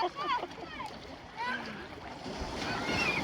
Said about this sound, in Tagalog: Lakas ng alon, set!